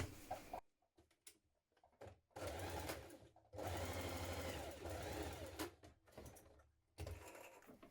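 A sewing machine stitches the seam of a winter coat lining in bursts, whirring runs of a few seconds broken by short pauses, close and fairly quiet.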